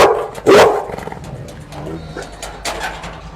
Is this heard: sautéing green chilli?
no